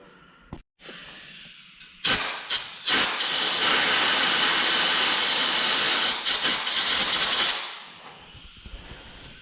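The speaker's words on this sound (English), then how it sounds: "take some compressed air, blow the hole out" A loud, steady blast of compressed air hisses for several seconds after a few short puffs, then tapers off into quiet, blowing out an engine bolt hole while installing a Kohler engine on a Walker mower.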